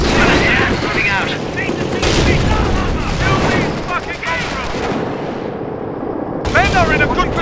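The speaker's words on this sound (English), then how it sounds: "We're taking fire!" Battle gunfire in the World War II game Company of Heroes, set in the fight for Caen in 1944: loud, repeated rifle and machine-gun bursts with booms, mixed with voices.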